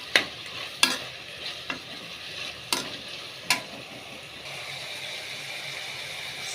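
Tomatoes, carrots and capsicum sautéing in a pan, with a soft steady sizzle under a handful of sharp spoon scrapes and clacks spaced about a second apart, close by and with no voices.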